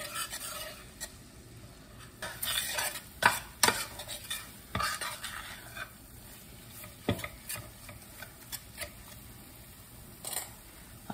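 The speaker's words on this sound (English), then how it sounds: "we're going to get the butter melted in there and stir in the flour" A spoon scrapes and taps in a pot as flour is stirred into melted butter for clam chowder, with quiet, irregular stirring strokes over a faint sizzle.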